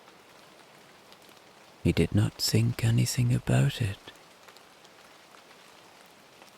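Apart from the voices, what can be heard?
rain falling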